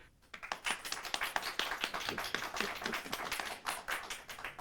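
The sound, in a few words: audience applause for a pitch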